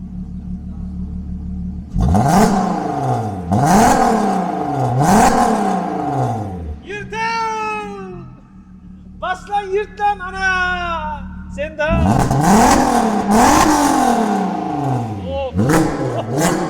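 A Volkswagen Golf 5 R32 engine revs repeatedly in loud surges, rising and falling, with a quieter stretch of higher whining revs in the middle.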